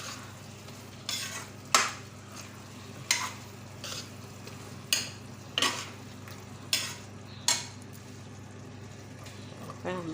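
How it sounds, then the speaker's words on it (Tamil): A spoon stirs a yogurt and mushroom mixture in a pan for a South Indian mushroom biryani, giving soft scraping strokes and a few sharper clinks against the pan in an irregular rhythm over a steady low hum. "மிக்ஸ் பண்ணி அது 2-3 வாட்டி கிளறி விட்டுட்டு"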